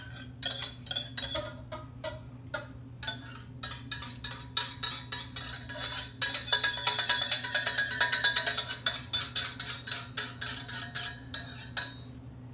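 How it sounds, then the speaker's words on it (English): Brownie batter of eggs, vanilla extract, melted chocolate and Crisco stirred in a large mixing bowl: repeated clinking and scraping of a utensil against the bowl in quick uneven strokes, growing busier midway, over a steady low hum. "mix all ingredients thoroughly. Dry and liquid ingredients in the large mixing bowl."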